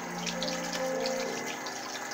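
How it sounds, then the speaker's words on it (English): A household tap runs steadily into a sink while hands are washed, an even close hiss of flowing water with no voices. "I'm washing my hands."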